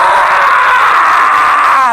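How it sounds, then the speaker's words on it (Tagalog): A person lets out one long, very loud, high-pitched scream that holds steady for about two seconds before breaking off, with no other sounds. "At bakit ka sumisigaw na parang babae?"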